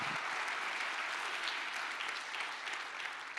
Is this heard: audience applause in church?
yes